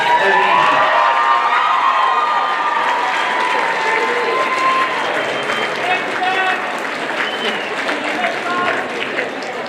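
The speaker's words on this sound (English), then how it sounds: "Turn around and give your parents a joyous ovation." A large audience at a high school scholarship awards ceremony gives a sustained ovation, dense applause with cheering and shouts that stays loud and steady from start to finish.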